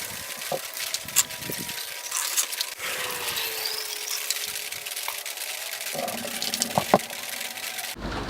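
RV antifreeze is poured into an outside P-trap in freezing weather, giving a continuous close rushing, gurgling liquid flow with a few small clunks, with no talk.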